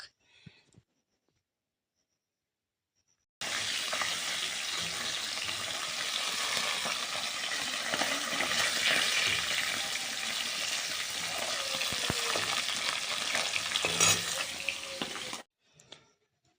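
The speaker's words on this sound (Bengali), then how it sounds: "কড়াইয়ের মধ্যে দিয়ে দিলাম মাছ মাছগুলো আমি ভেজে নিচ্ছি" Fish frying in oil in a hot wok, a steady loud sizzle that starts abruptly and holds for about twelve seconds with occasional pops and crackles, close up with no talking.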